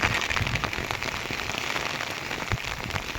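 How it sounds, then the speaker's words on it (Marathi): Heavy monsoon rain pours down in a dense, constant patter on surfaces nearby, loud and unbroken with scattered sharper drop hits. "इतकं पाणी आणि इतकं पाऊस आहे"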